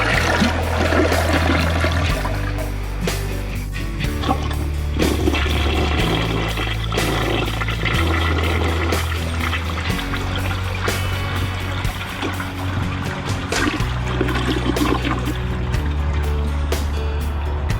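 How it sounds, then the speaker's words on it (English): A 1966 American Standard Cadet toilet flushes, a rushing, gurgling swirl of water that runs loud and close, backed throughout by a steady, rhythmic music bed. "we're gonna put the videos, like the first part of the video of this toilet flushing"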